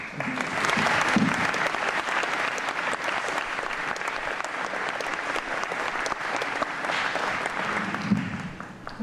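Audience at a school fall athletic awards ceremony giving a sustained round of applause for the field hockey team and coach, loud dense clapping that holds steady for several seconds and then tapers.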